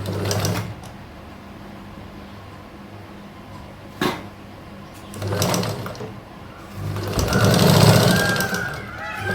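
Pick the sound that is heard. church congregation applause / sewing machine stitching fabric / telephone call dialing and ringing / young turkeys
sewing machine stitching fabric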